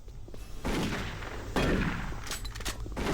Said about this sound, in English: this is pretty overpowered close up, as it should be for a shotgun